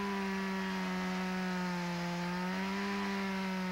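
A Stihl MS-170 chainsaw runs steadily at a constant engine pitch for the whole stretch, close and fairly loud, with no voices over it.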